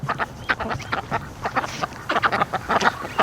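Ducks, including Muscovy ducks, calling in a rapid, busy run of quacks and honks, fairly close and lively, with no clear talk over them.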